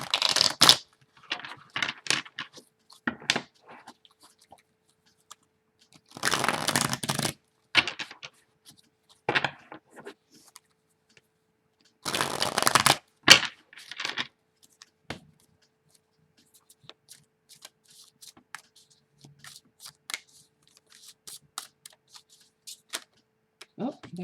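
Tarot cards shuffled in several separate bursts, crisp close riffles and taps with quiet pauses between, ending in lighter scattered flicks.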